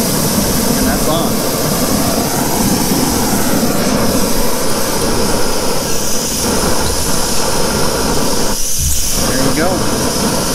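A portable propane heater burns with a loud, steady broadband roar that holds constant close by, with voices faintly present underneath.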